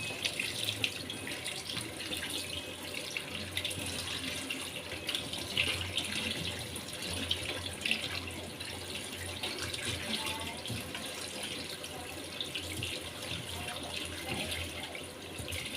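A kitchen tap runs steadily for rinsing, a continuous hiss of water into a sink with small splashes, close by and with no talk.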